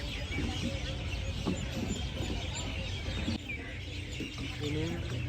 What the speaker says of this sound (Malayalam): നല്ല കിളിയുടെ സൗണ്ട് അല്ലേ?